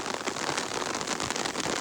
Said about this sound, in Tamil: சரியான மழையாக விழுந்துருக்கு